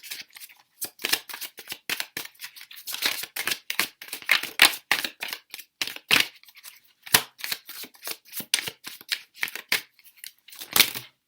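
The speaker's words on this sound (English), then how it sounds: "let me just shuffle these" Tarot cards are shuffled repeatedly, a close series of crisp, papery riffles and slaps in an uneven rhythm, alone with no voices.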